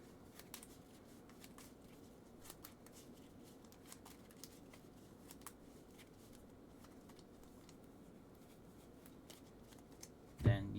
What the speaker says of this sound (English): And then shuffle, since that would be it for